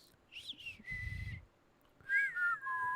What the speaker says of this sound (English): don't whistle into the microphone